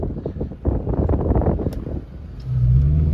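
A worn 2003 Toyota Camry LE with about 300,000 miles accelerating on a test drive, a loud low engine rumble with wind noise, rising into a steady deeper drone at the end.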